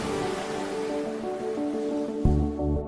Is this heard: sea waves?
yes